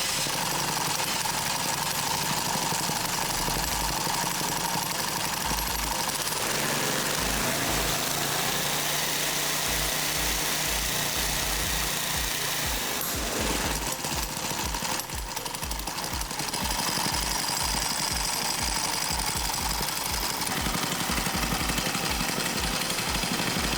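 A small go-kart engine starts and runs, spinning the axle through a chain drive, with a loud, steady, rapid chugging that stays close and continuous throughout with no talk.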